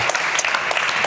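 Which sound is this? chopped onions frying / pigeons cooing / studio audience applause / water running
studio audience applause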